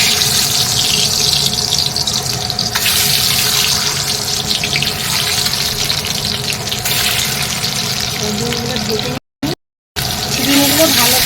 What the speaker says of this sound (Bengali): ডিমগুলো ভালো করে ভেজে নেবো